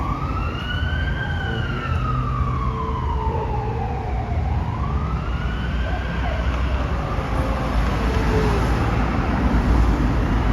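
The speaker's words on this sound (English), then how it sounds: "There are the sirens." Emergency vehicle sirens wail on a Toronto street at Richmond and Spadina, the tones rising and falling in long sweeps over steady city traffic rumble. The sirens sit at a middle distance and stay clear for the whole stretch.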